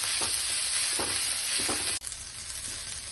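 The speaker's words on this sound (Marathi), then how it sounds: "तसेच त्यानंतर मिरची, बारीक चिरलेला कांदा घालून कांदा व्यवस्थित असा गोल्डन ब्राऊन होईपर्यंत आपल्याला फ्राय करून घ्या।" Chilli and finely chopped onion fry in hot oil with a constant hissing sizzle, close up, with a few soft stirring knocks and a brief break partway through, no voices.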